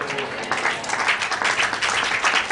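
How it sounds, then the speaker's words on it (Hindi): A church congregation at a Hindi worship message claps hard on a pastor's urging, a loud, continuous wash of many hands clapping at once with little letup. "खमो खमो जोरदार ताली बजाओ"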